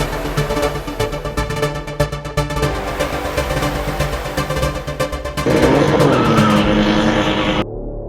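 Cars drifting and spinning at the Dezzi racetrack during a live automotive racing event, engines roaring continuously with a louder, denser burst of revving and tire noise near the end before cutting off.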